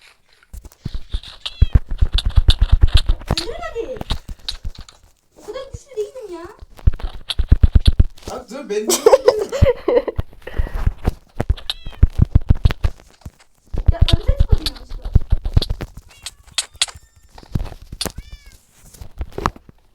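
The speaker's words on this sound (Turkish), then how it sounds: "Ya kedi niye bağırıp duruyor?" A cat yowls and meows repeatedly in drawn-out, wavering cries, mixed with people talking nearby.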